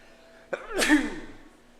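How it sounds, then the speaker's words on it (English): A single sharp sneeze, loud and close, with a quick intake followed by a bright explosive burst that trails off. "I gotta sneeze."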